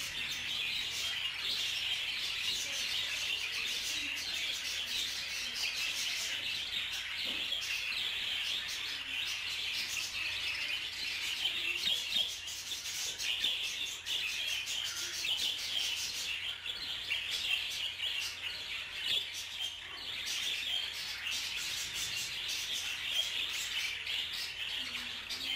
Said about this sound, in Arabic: وإليكم بعض المقاطع لبعض الطيور في غرفة المحمية، محمية التربية.